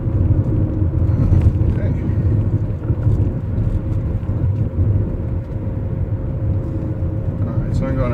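A BMW E39 converted to electric drive with a Prius inverter driving in fourth gear: a loud, steady low rumble of road and motor noise, with someone talking over it.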